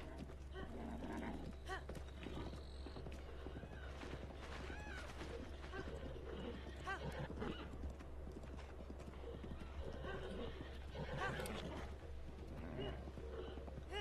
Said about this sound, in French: Moi-même, j'ai mon cheval.